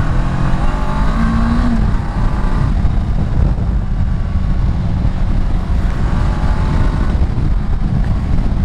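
A Honda CB 500X motorcycle being ridden through leaning turns, its engine droning loudly and steadily with rising and falling pitch and wind rush throughout, no talk over it.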